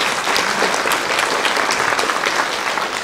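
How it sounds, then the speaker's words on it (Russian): Steady, dense applause from a large audience filling a room, loud and sustained throughout with no pauses. "Аплодисменты."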